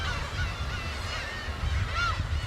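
Black-tailed gulls crowd the rocky island of Dokdo in spring, thousands calling together in a loud, continuous overlapping chorus of cries and squawks, with no speech.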